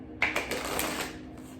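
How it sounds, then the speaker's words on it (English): A deck of intention cards is shuffled by hand, giving a quick papery riffle burst with a few crisp flicks that fades out, close and alone. "I'm going to shuffle these cards here."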